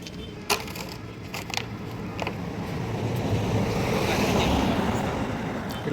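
River water with waves where boats run near a temple on the way from Haridwar, a steady rushing wash that swells louder through the middle, with wind and a few sharp knocks early on.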